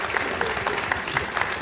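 Audience applause for the speaker's wife at a talk remembering Apollo 11, a steady patter of clapping from a crowd, moderately loud and continuous throughout.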